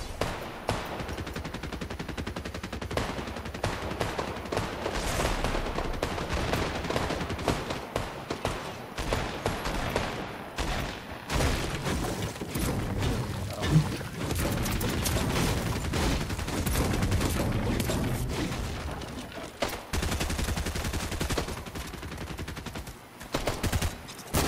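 Sustained gunfire in the battle royale game Fortnite, sharp repeated shots and automatic bursts rattling loud and close for a long stretch, with brief pauses between volleys.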